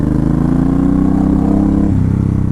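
A Suzuki Boulevard M109R muscle cruiser engine rumbling loud and close, a deep throbbing drone that rises gradually in pitch and then drops back sharply near the end, with no talking.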